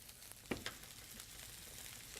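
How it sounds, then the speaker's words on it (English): Onions and peppers sauté quietly in oil in a pan, a soft, faint sizzle with a couple of brief stir clatters early on. "lower the heat a little bit and saute my onions"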